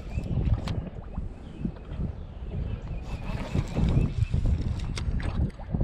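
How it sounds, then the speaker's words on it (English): Blustery wind buffets the microphone in uneven rumbling gusts on a fishing boat, with faint water and boat knocks in the background. "Wind's kind of comes and goes, kind of gusty."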